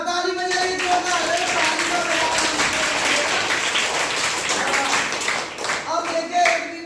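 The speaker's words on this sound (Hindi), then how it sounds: "शाबाश, ताली बजाइए जोरदार।" A classroom of students bursts into loud, sustained applause, dense clapping that swells for several seconds and then tapers off, with a teacher's voice faintly present at the edges.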